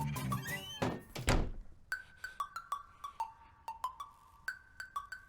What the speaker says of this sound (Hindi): तुम जाके वो दरवाजा बंद करो